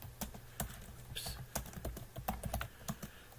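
Computer keyboard typing in bursts: irregular clusters of crisp key clicks, close and fairly quiet, with short pauses between groups of keystrokes.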